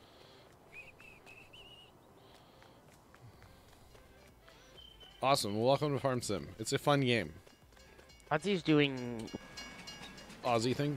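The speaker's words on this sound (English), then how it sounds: "That's the train." A train whistle sounds in Farming Simulator 19, a thin tonal toot near the start, followed by loud, lively talk from several players that dominates the rest.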